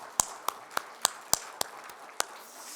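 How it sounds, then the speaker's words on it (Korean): A church congregation at a worship service claps in unison, sharp single claps landing on a steady even beat about three times a second, fairly quiet against a hushed room. "다시 한번 하나님께 영광의 박수 올려드릴까요?"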